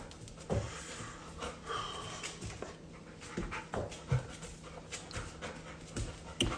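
A dog pants close by in quick, steady breaths with a few soft whimpers and snorts mixed in, over faint room noise.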